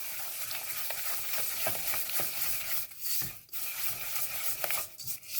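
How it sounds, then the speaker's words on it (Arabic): A spatula stirs a batter of sugar, two eggs, vanilla and a pinch of salt in a bowl, making rapid, close scraping and swishing strokes in an uneven rhythm with brief pauses. "هقلبها بصوا بالسباتشولا على طول، هقلبها تقليبه بسيطه."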